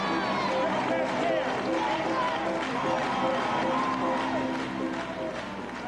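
Crowd applauding at a Democratic Party event with Marion Barry in 1983: dense, continuous clapping and cheering fills the whole stretch, loud and close, with voices mixed into the noise.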